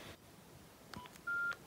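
Nokia mobile phone keypad tones, a few short beeps followed by a longer steady tone near the end, heard clearly in a quiet room.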